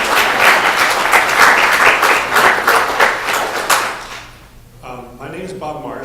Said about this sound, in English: I'd like to get a round of applause for JSA for pulling this together